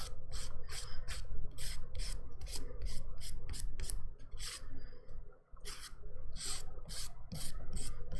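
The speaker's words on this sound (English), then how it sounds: "I'm just going to do a final, just quick buff to smooth everything out." Buffing dip powder nails to smooth them: rapid, rhythmic rasping strokes of a buffer over the nail surface, close and steady, with a short pause midway before the strokes resume.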